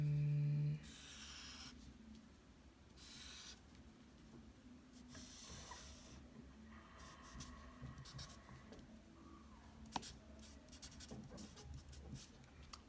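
A pen or pencil sketches a position-time graph by hand on paper, giving soft intermittent scratchy strokes close to the mic, faint against quiet background hiss, with no talking.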